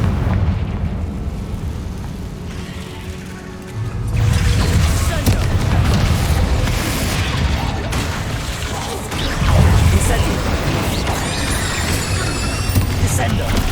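A fiery Confringo blast spell goes off in Hogwarts Legacy, a loud, dense burst of crackling explosive noise that swells around four seconds in and rumbles on with game effects and music, with a second surge near ten seconds.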